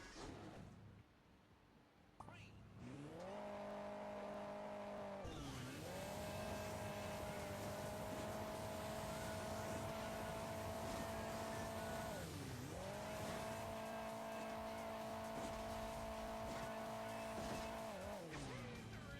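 A fully upgraded rally car in Hill Climb Racing 2 revs its engine steadily, the pitch dipping briefly twice as it shifts before climbing and holding again, loud and close with no talking over it.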